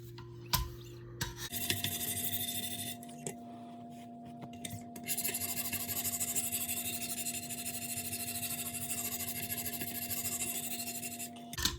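Knife blade drawn across worn Wicked Edge sharpening stones on an Emerson Super Commander, giving a steady close rasping scrape that runs almost without pause after a brief start, with a faint tonal hum underneath.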